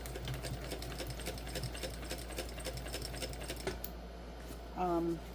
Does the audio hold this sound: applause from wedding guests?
no